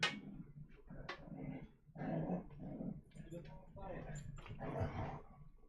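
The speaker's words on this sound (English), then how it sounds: "There he goes, little psycho puppy." Puppy whimpering and giving small growls in short bursts indoors, close and fairly faint, with soft human talk mixed between the yips.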